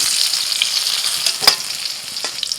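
Potatoes go into hot oil and fry with a loud, close crackling sizzle, punctuated by a few sharp spatters and stirring sounds.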